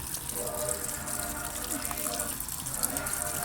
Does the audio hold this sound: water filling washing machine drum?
yes